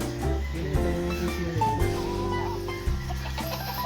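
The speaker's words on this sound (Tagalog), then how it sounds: "malaking manok" A chicken clucks in a rural yard, several short clucking calls close by over a steady droning background, with no talking.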